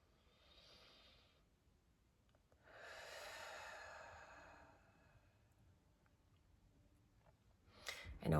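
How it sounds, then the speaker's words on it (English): A person breathes slowly and deeply during a guided breathing exercise, with a soft inhale, a longer audible exhale, and then a fainter breath, all quiet and close, with no talk. "So we're going to take in our breaths, breathing in love and exhaling anything that's not serving."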